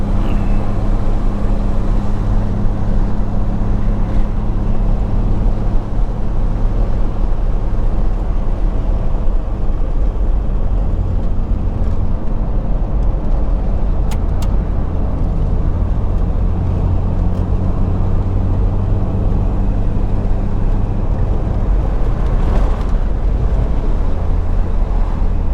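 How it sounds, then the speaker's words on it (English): A 1961 Mercedes-Benz 220Sb W111 climbing a grade in fourth gear at about 1800 RPM, its low engine drone continuous and loud, mixed with road and wind rush throughout. "Still pulling in fourth gear at 1800 RPM."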